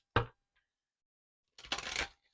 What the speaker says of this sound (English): Okay, I want to do one more shuffle.